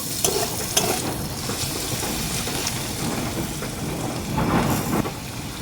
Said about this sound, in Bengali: এবার এর মধ্যে আমি গোলমরিচের গুঁড়ো দিয়ে দিচ্ছি আবার একটু ভালো করে নাড়াচাড়া করে নিব